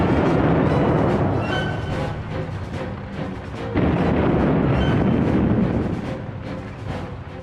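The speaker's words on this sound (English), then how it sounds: "the leading British tank, the Mail, opened fire with its 6-pounder gun" A British WWI tank's 6-pounder gun fires and a shell bursts, heavy booms swelling and fading in two big surges amid rumbling battle noise, fairly loud throughout.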